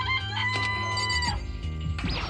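Chicken clucking sound effect in the Danganronpa video game, a loud, close, repeated clucking squawk layered over continuous game music.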